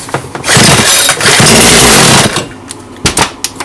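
A Svityaz chainsaw, its starter just repaired, is pulled over and catches into a loud, rough high-pitched roar for about two seconds before cutting out, followed by a few brief sputtering bursts.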